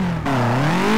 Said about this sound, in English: The rev limiter on this.